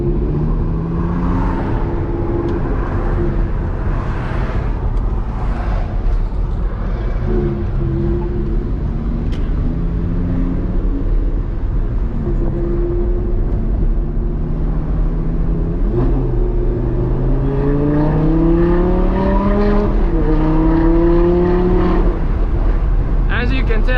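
A modified Audi R8 with a V10 engine and loud exhaust drones steadily from inside the car, then climbs in pitch through repeated revs and gear pulls, while people talk over it.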